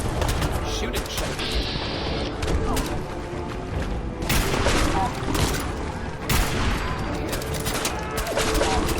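Gunfire in Fallout 4: Far Harbor, with repeated sharp shots and bursts in uneven clusters over a busy, noisy game background, and a voice speaking now and then.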